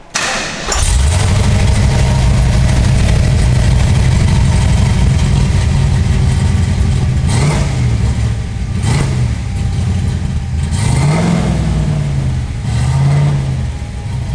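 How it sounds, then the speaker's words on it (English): A 1977 Ford Falcon XC Fairmont hardtop with its factory 351 V8 cranks and fires up, then settles into a loud, close, lumpy idle broken by several short throttle blips, with no voices. "It's factory 351, and I'll just fire it up so you can have a listen at home."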